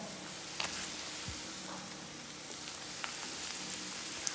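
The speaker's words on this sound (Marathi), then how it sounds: "आणि टोमॅटो पण चांगलं भाजून परतून घ्यायचं." Onion and tomato frying in a pan: a steady, soft, even sizzle with faint crackles, close by and quiet, with no voices.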